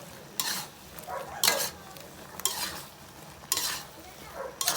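Ginataang gabi, taro simmering in coconut milk, stirred in a pot with bagoong alamang: a few distinct scraping spoon strokes at a slow, regular pace over a low background hiss.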